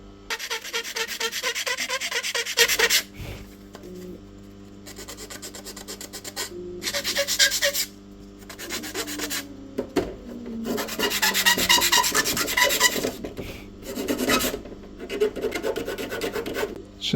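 A sanding block rasps back and forth along the wooden edges of an RC boat hull part, repeated scratchy strokes in bursts separated by short pauses, close and clear without talk.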